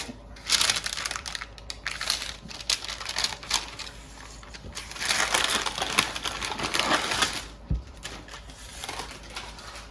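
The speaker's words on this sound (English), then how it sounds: "we'll slide out the paper here" Baking paper slid out from under a slab of set creamsicle fudge in a cleaned pan, giving a continuous crinkling, rustling crackle that rises and falls for several seconds at close range with no talk.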